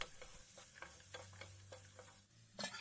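Tomato pieces and beans frying on a low flame while being stirred, a quiet sizzle with a steady rhythm of soft scraping strokes about every third of a second.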